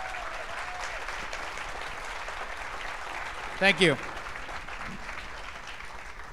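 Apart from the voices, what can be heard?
audience applause for speakers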